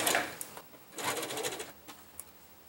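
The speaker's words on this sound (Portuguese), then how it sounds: "E vai costurar no pezinho de máquina." A sewing machine stitching the collar onto a polo shirt, with short whirring bursts of running, a pause and light mechanical clicks, close and fairly quiet with no talking.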